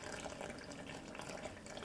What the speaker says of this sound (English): we are going to put in 100 grams of water